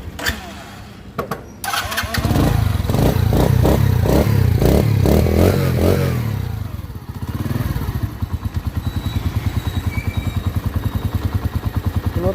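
A Dayang 80cc motorcycle cranks with a clattering starter, catches and revs loudly, then settles into a rapid, even thumping idle close by; a voice speaks briefly before the start.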